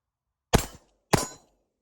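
Two sharp shots from a Mossberg Shockwave shotgun, each a loud close blast with a short decaying tail, spaced about half a second apart with silence around them.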